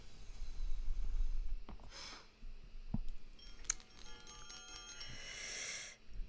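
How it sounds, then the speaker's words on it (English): A bell rung in a quiet room: a few bright, ringing strikes with shimmering overtones, separated by soft clicks and handling noise, fairly faint overall. "So where's my bell?"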